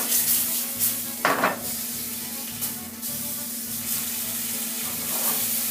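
Shrimp sizzle in a hot pan for New Orleans BBQ shrimp, a steady close frying hiss with a constant low hum and occasional bursts of spatter and stirring.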